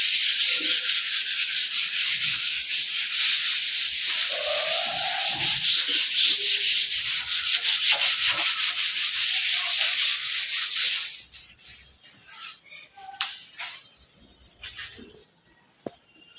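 Hand sanding scrapes rhythmically over an old varnished wooden bed frame, a loud, close, steady rasp of rapid back-and-forth strokes for about eleven seconds, then quieter rubbing and handling sounds.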